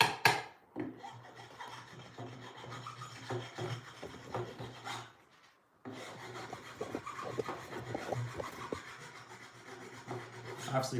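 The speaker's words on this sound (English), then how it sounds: "And using a file, and there you go." A hand file rasps across a wooden workpiece in a workshop with steady, close back-and-forth strokes, stopping briefly midway and then resuming.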